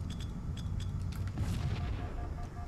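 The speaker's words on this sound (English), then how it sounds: "Or you can do a grenade jump right here" Grenade blast in the Halo 1 video game, on the Prisoner map, heard as a soft, low rumbling boom within steady game background noise, quiet and somewhat distant.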